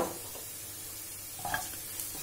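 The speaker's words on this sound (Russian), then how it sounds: "Все это хорошо перемешиваем." Soup with salt, black pepper and dry seasonings being stirred in a pot, a soft steady scraping and swishing with a faint sizzle beneath and a couple of brief clinks, heard alone at low level.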